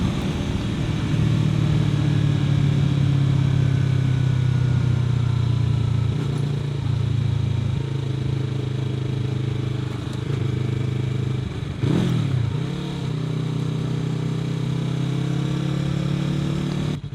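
A Yamaha YZF-R3 motorcycle cruises down a highway at night, its engine holding a steady, loud drone throughout with a brief shift in pitch midway, wind rush and passing-traffic noise layered underneath.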